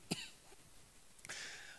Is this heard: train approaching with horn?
no